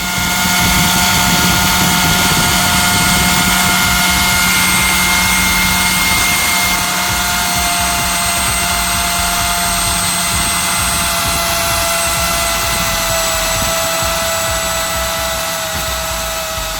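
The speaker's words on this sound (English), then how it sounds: "the motor started running extremely fast, the sound and speed indicating that something was going wrong" An overloaded brushed DC motor on a 3S battery spins extremely fast, giving a loud, close, continuous high-pitched whine with sharp tonal layers and a rough buzzing underneath that holds steady and fades only slightly toward the end.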